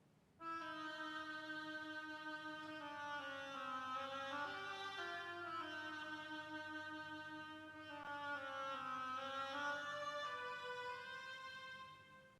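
An oboe plays the duck theme from Peter and the Wolf, a slow, reedy, slightly nasal melody in sustained phrases that rise and fall gently, with no one speaking.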